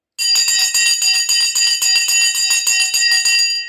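A bell rings rapidly and loudly, struck about twenty times in quick, steady succession with bright sustained overtones, sounding alone without any talk.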